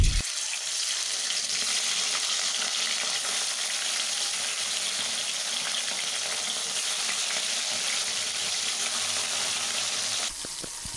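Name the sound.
bata fish frying in hot oil in a wok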